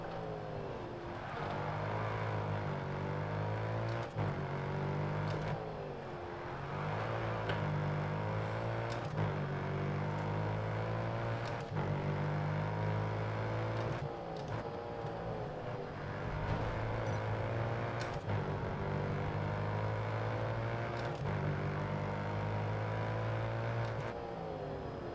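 A street car engine in the racing game Grid Autosport drones loudly and continuously, revving up and dropping back through repeated gear shifts, with no speech over it.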